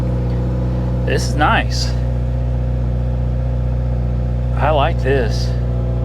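A car engine idles steadily after starting with the key, a low continuous hum running throughout while people talk over it in short bursts.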